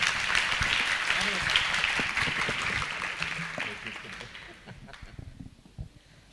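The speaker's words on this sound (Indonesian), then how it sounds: "Kasih aplaus sekali lagi untuk Pak Mardani Ali Sera." An audience applauds for Pak Mardani Ali Sera at an event, dense hand clapping that holds strong for several seconds then thins and fades out, with some voices mixed underneath.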